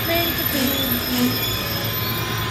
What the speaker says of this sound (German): Jetzt kommt da schon mein Zug nach Winterthur.